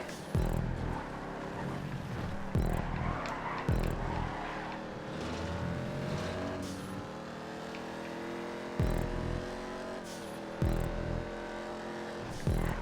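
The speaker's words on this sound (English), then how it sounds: "you hold the handbrake, full throttle, release the handbrake, and it will wheelie" A car pulls a handbrake-launched wheelie in GTA 5, its engine droning steadily and loudly with throttle surges and repeated thumping bumps throughout, no talking.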